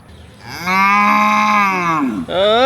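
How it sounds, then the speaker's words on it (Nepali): A cow in Jhapa, Nepal, gives a loud, drawn-out moo lasting over a second, then starts a second moo right after. The calls come from close by with no talk over them. "झापाको गफाडी गाई"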